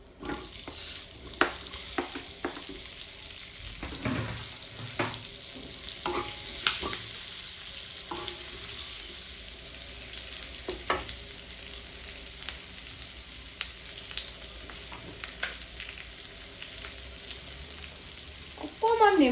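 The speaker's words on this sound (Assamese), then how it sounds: "ইয়াতে মই এয়া কাজু অকণমান সৰু সৰুকৈ কুটি লৈছোঁ আৰু পিঁয়াজখিনি একেলগে ভাজি লৈ ল'ম" Chopped cashews and onions fry together in a pan with a low, continuous sizzle and repeated scraping and stirring strokes close by.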